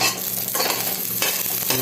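Whole uncrushed garlic cloves fry in a pan for Filipino chicken tinola, giving a loud, dense, continuous sizzle with stirring scrapes and no talk.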